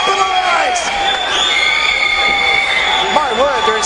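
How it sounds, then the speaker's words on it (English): A woman in a fight crowd shrieks in high, wavering, rising and falling squeals over a dense, loud arena roar. The shrieks repeat intermittently through the clip. "there is some woman in the crowd here absolutely shrieking like a canary being beheaded"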